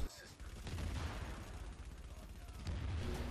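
Rapid weapon fire in the video game The Division, a dense, loud burst of shots sustained almost throughout, fired while healing with first aid in a PvP match.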